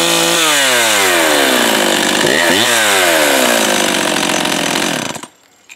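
A two-stroke chainsaw, flooded with the choke, is pull-started and roars into a loud, steady run for about five seconds before cutting off abruptly into silence.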